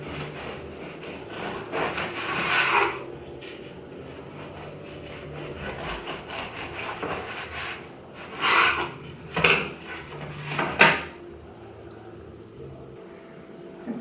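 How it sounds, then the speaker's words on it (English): A knife saws through a cooled loaf of apple-cinnamon oatmeal bread on a board, giving a handful of short, rasping back-and-forth strokes with quiet pauses between them. "So now that this bread is cool, I'm gonna slice into it and see what we got."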